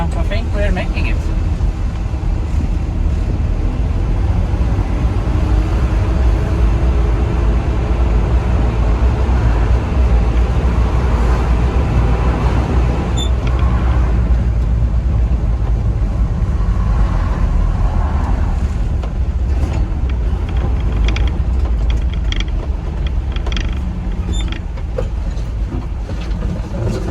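An old square body Chevrolet truck, left sitting since 2006, drives along at a constant loud rumble of engine and road noise, with a voice at times over it.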